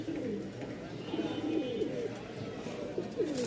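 Blue pouter pigeon cooing in a loft, a series of low rolling coos repeating close by with steady background noise.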